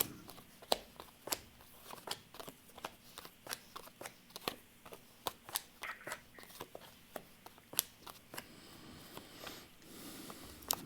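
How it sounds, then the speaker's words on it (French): Tarot cards shuffled and drawn in a quiet room, a long run of quick crisp card snaps and riffles, close but soft, with faint murmurs of talk in places. "Je vais tirer quelques cartes."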